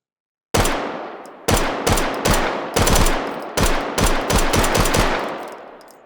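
Heavy gunfire in H3VR rings out in a forest range, a rapid series of loud, sharp shots in bursts, each with a long echo rolling back off the tree line and fading out after the last round.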